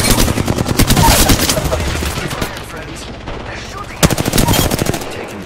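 Rapid automatic gunfire from an Apex Legends match, loud bursts of rattling shots filling the first half, easing off, then a fresh sharp burst near the end, with faint game voice lines mixed in.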